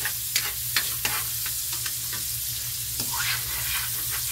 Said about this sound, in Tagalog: Aray ko, tumatalsik ang mantika.